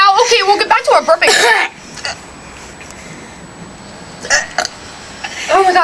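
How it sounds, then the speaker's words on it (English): A person lets out a loud, drawn-out burp amid casual talk, with a second burp-like croak a few seconds later as voices continue around it. "we'll get back to our burping"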